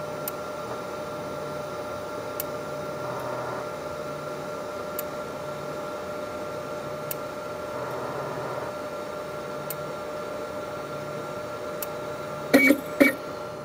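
An HPLC instrument's autosampler moves its needle to inject a sample into the column: quiet mechanical whirring in short bursts over a constant hum, with a few faint ticks and a cluster of sharper clicks near the end.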